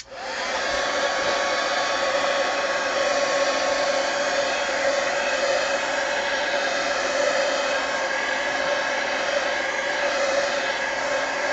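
A heat gun blows steadily and loudly throughout, a continuous roaring hiss while drying paint on an art journal page, with no talking.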